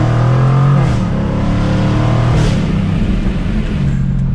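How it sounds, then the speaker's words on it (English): A 2022 Jaguar F-Type R AWD convertible's V8 exhaust roars loudly and steadily as the car accelerates from second gear, a deep continuous engine note with a brief rise in revs, heard from close by. "it can go from just a quiet cruiser to having the V8 exhaust note that you want in this car"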